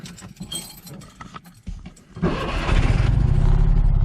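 Keys jangle and a starter cranks before a classic Fiat 500's engine catches and settles into a loud, throbbing idle close by, with an exhaust leak.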